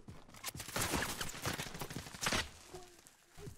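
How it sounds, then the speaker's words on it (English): Video-game gunfire crackles in a rapid, uneven string of shots with sharp cracks and a few louder reports, fairly close, with no talk over it. "I hear a sniper."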